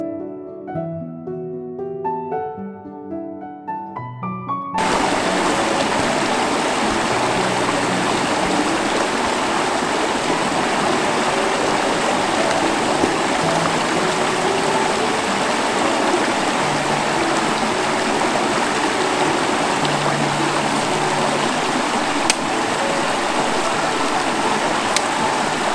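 A river waterfall pours in a steady, loud broadband rush that starts abruptly after a few seconds of quiet tonal music and then continues unbroken to the end.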